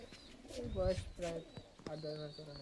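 An old male Nazra Kaldum pigeon in a loft gives a few close, soft rolling coos in quick succession, each a low throaty burble, with a voice talking alongside.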